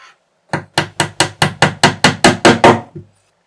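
Pins are tapped into a wooden plank on the keel of a 1:200 Prinz Eugen model ship, about ten sharp evenly spaced hammer taps in a quick steady rhythm, close and loud, with no talking.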